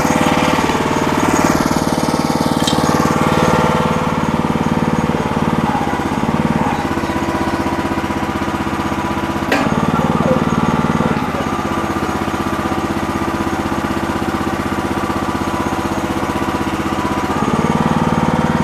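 A Red Rock mini towable backhoe's small engine runs steadily and loudly throughout, with brief dips and surges as its hydraulic arm swings left and right, no talking.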